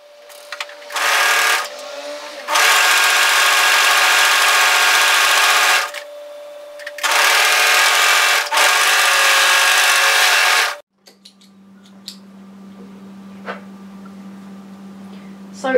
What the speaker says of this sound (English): So we're going to overlock the long curved edge.